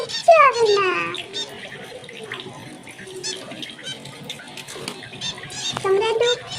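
A pet bird bathing in a water tub, light splashing and trickling water with chirps and squawks, while a person talks throughout.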